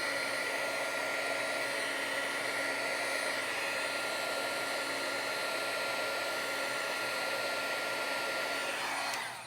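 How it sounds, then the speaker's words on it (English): A Wagner heat tool blows steadily to heat-set alcohol marker ink on a handmade card, a loud, close, even rushing whoosh that continues throughout and cuts off at the very end. "So I'm going to use my Wagner heat tool here just for a couple of seconds."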